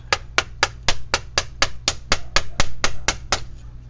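About a dozen sharp, evenly spaced taps as a small pipe is knocked down onto a spinning fishing rod, crisp and close, at a quick steady rhythm over a low hum.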